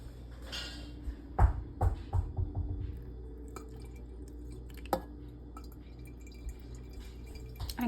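Homemade cayenne pepper hot sauce liquid poured into a container, a short run of wet drips and splashes early on followed by sparse, faint drops and clinks, close by with no talking.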